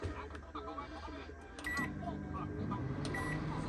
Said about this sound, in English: Microwave's running